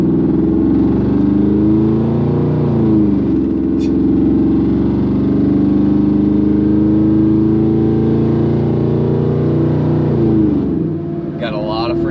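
A 1997–2003 Ford F150 pickup engine revs loudly right after an oil change, a steady rumbling drone held for about ten seconds with several swells in pitch, then easing off near the end.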